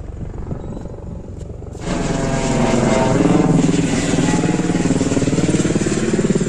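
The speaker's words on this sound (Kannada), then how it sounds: "ಹೆಲಿಕಾಪ್ಟರ್ ಬರ್ತಾ ಇದೆ ನೋಡಿ ಅಲ್ಲಿ." A helicopter arriving at the Lalitha Mahal helipad in Mysore during Dasara: a steady, pulsing rotor and engine roar swells suddenly partway through and then holds, loud and fairly close.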